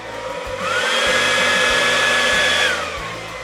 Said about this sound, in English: I think I might want to blow this out just a tiny bit more.